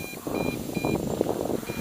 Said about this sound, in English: God, that beeping gets on your nerves, doesn't it?